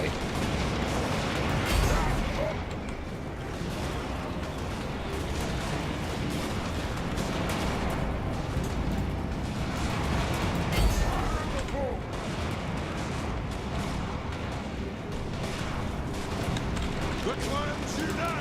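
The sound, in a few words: gunfire from units in Total War: Warhammer video game battle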